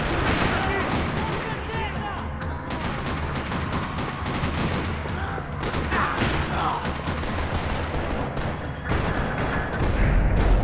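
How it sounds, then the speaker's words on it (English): Dense, continuous gunfire rattles without pause in a parking lot in the video game Max Payne 3, rapid shots and booms layered into a loud chaotic firefight with voices mixed in. "Another parking lot rattling with gunfire."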